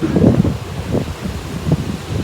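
Steady, loud wind buffeting a nearby microphone, a low rumbling roar with gusty swells and no voices.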